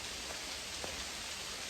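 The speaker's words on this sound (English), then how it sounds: "It's like rain and ice mixed." Steady broadband patter of mixed rain and ice falling outside on a dark morning, a constant hiss with a few faint sharper ticks, no voices.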